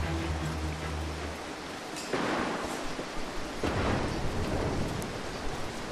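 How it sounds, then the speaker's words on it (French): Thunderstorm and rain in the Mark of the Ninja video game: steady hissing rainfall with two loud rolling thunder cracks close together, and no talking over it. "Oh, il me gonfle cet orage. Putain, mais il pleut tout le temps dans ce jeu en fait."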